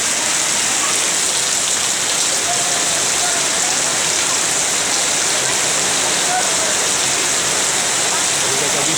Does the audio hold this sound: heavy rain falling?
yes